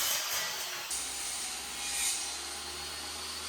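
Steady broadband rasping hiss of a particle board piece being cut for an Ikea kitchen cabinet, continuous and fairly close, with a low hum underneath and no talking.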